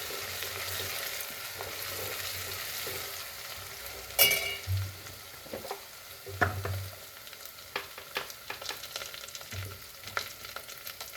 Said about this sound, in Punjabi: ਲਸਣ ਤੇ ਜੀਰੇ ਦਾ ਜਿਹੜਾ ਆਪਾਂ ਦਰਦਰਾ ਜਿਹਾ ਕੁੱਟਿਆ ਪੇਸਟ ਉਹ ਪਾ ਦੇਣਾ ਜੀ ਆਪਾਂ 2 ਮਿੰਟ ਪਕਾਵਾਂਗੇ